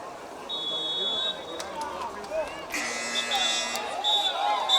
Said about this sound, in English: Halftime buzzer sounds